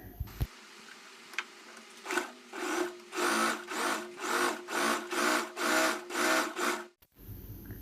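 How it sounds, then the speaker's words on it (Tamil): A sewing machine stitching a folded puff sleeve hem runs in about nine rhythmic bursts, each a whirring rattle of needle strokes, close and clear with short pauses between, ending in a sudden stop; no one speaks. "மடிச்சுட்டு இப்போ வந்து நான் வந்து இதை ஸ்டிச் பண்ண போகிறேன்."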